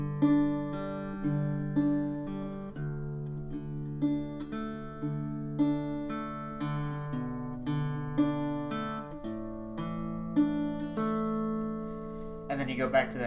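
An acoustic guitar plays the second part of a song, plucking chords note by note in a steady arpeggio that rings clearly and close, ending in a brief strum.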